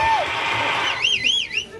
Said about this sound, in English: Big round of applause for Raj Mehboob Tarani.